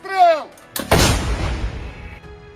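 Artillery gun firing in wartime Ukraine, a single massive blast with a sharp crack and a long rumbling decay, right after someone shouts commands.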